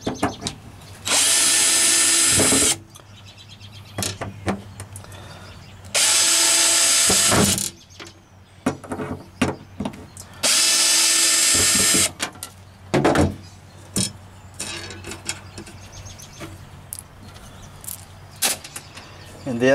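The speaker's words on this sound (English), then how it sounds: "I'm gonna go ahead and pull those screws out right there" A power drill backs screws out of an access panel on a Jeep Wrangler YJ, running in three loud sustained bursts with shorter whirs and clicks between them, close to the microphone.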